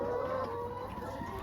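Chickens cluck softly at an egg-laying farm in Zimbabwe, a faint, steady low murmur of hens with no talk.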